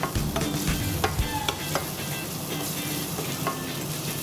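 Garlic frying with aubergine in a pan for eggplant parmesan, a steady broadband sizzle with scattered sharp clicks and stirring scrapes throughout, close and fairly loud, no voices.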